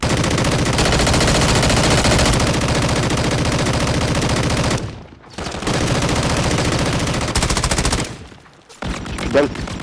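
Rapid automatic gunfire from the Call of Duty video game, dense continuous bursts that break off briefly twice, with a faint voice near the end.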